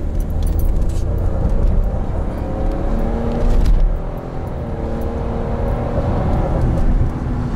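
A car with a Ford 2.7 EcoBoost engine drives along, giving a steady, loud, low engine and road drone from inside with a slight dip partway through.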